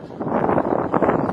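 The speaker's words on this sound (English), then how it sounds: "it's windy out here" Steady wind gusting outdoors, a broad rushing roar buffeting the microphone in continuous swells with no other clear sounds.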